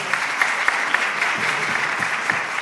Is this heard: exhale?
no